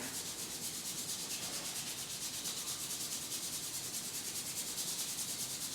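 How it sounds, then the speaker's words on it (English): Hands rubbing together during a winter slow flow and yin yoga session, a steady, continuous soft brushing friction sustained at even volume throughout. "And if you're upright, rubbing the hands together."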